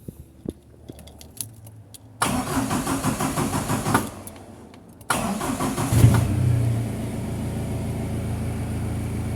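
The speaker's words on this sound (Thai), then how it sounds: "แต่เวลาเรา สตาร์ทเครื่องดูครับ" A car engine is started for a GarageShop tachometer signal-converter test. Keys and cabin clicks come first, then two cranking bursts, the second catching into a steady idle that runs loud and close to the end.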